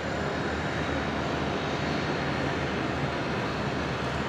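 A QantasLink E-Jet arriving at Brisbane airport from Hobart makes a steady broadband jet roar, loud and constant, with no talk.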